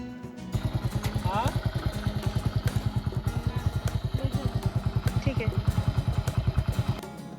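Forest department staff's motorcycle carries riders along an off-road forest trail, its engine thumping in a steady fast rhythm close by after a quiet start, with voices audible at moments.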